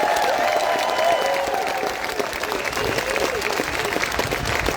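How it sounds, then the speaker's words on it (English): A crowd at an outdoor Liverpool rally claps steadily, a dense, even wash of applause with faint voices mixed in, held at a constant level throughout. "could we please have a round of applause for all the speakers and our excellent compare"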